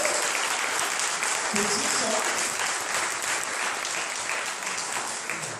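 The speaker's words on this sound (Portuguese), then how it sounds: "Aplauda a palavra de Deus" A church congregation applauds the word of God during a sermon, sustained dense clapping from many people filling the space, with voices and talk mixed in beneath it.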